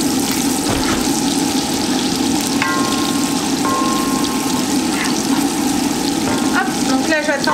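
Chopped onion frying in a pan of butter and oil, a steady loud sizzle that runs without a break, with a few faint clinks and utensil noises over it.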